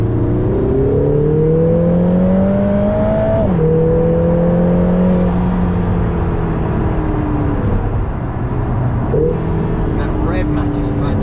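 A Lotus Emira sports car accelerates hard, its engine note climbing through several gear shifts with brief dips between them, loud and close from inside the cabin, with a voice faintly underneath.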